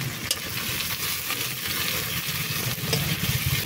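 Onions and spices sizzle and fry in a pan while being stirred, a steady close crackle with scraping stir strokes throughout, cooked inside a truck cab.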